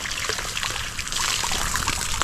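Water splashes and trickles steadily as it is poured, close by, with a brief faint voice underneath.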